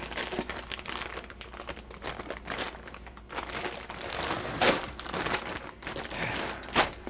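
A large 10-pound plastic bag of dry beans crinkles and rustles steadily as it is handled, with repeated close, loud crackling bursts and sharper crunches throughout, no talking.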